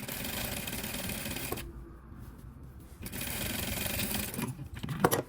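A sewing machine stitching fabric, with a fast mechanical whirring run that pauses briefly, then resumes and ends with a sharper clack, close and loud.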